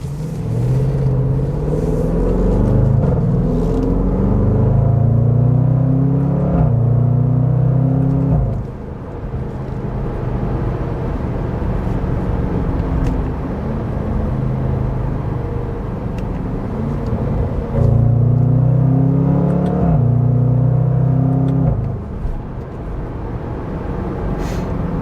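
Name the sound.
Range Rover Sport SVR exhaust snorting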